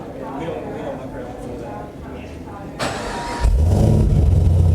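An HSV Clubsport R8 with an LSA V8 is remote started: a quiet background gives way to a sharp cranking burst near the three-second mark, then the engine catches into a loud, steady low idle rumble, with voices audible underneath.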